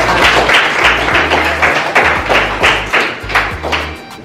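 Students in a classroom clap for a presenting group in a quick, loud, rhythmic burst. Low thumping taps sound alongside the claps.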